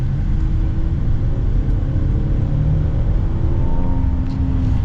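A 2024 Hyundai Palisade Calligraphy accelerates in sport mode, its engine a steady low rumble inside the cabin with a faint rising whine as speed builds, no voices over it.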